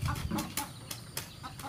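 Chickens with a snoring respiratory condition clucking nearby in a few short, uneven bursts, with soft rustling between the calls.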